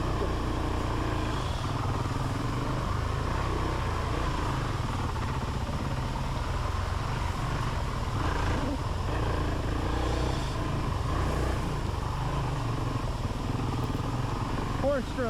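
A Honda CRF450L four-stroke motorcycle ridden off-road on an off-camber hillside, its engine droning steadily throughout under wind rumble, with a rider talking over it.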